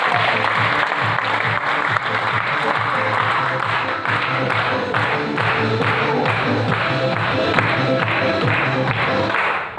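An audience claps steadily, a dense crowd applause that stays loud and even for the whole stretch.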